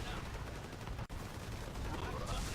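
Artillery fire in the real-time strategy game Forged Battalion comes as a dense, continuous barrage of rumbling blasts and rapid gunfire, loud and close, with only a brief gap midway.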